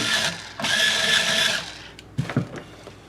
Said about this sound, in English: these are locking tuners. So I'm just going to loosen the string a little tiny bit